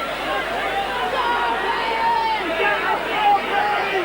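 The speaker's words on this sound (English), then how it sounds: "this Warrington crowd are going bananas at anything that Wigan's going into the tackle" Rugby league spectators at a Warrington versus Wigan match keep up a loud, sustained roar and babble, with a commentator talking over the crowd noise throughout.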